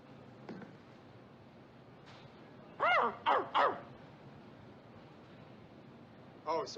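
A man imitates a dog, giving a few short, yappy barks in a quick cluster followed later by one more, moderately close over a quiet background.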